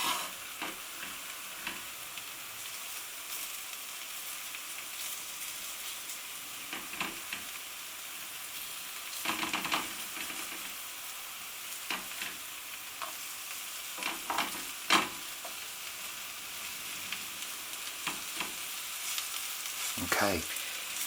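Chickpea flour pancakes frying in a pan, giving a steady soft sizzle with scattered ticks and crackles and a few louder clinks near the end.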